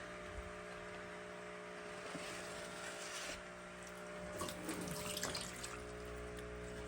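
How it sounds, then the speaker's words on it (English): A container is rinsed out in a bucket of dirty aquaponics water: continuous swishing and sloshing with a few splashy surges, fairly faint under a steady background hum. "So I'm just gonna rinse out this other one in this bucket, like this."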